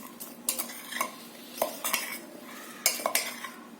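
Sesame avakaya pickle mixture stirred with a spoon, a few sharp clinks and scrapes against the bowl in an uneven rhythm, close and fairly quiet.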